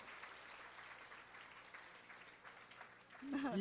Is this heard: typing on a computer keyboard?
no